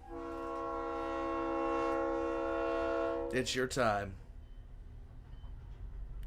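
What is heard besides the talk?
train arriving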